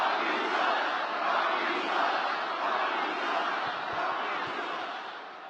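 A large wrestling crowd at WWE Raw keeps up a continuous distant roar of massed voices, a steady broad wash that fades slightly toward the end.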